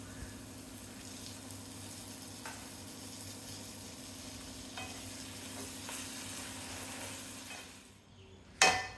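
Steady sizzling from a hot pan as chicken masala with yogurt and salt is stirred, a few soft scrapes, then the frying fades near the end before a brief clatter.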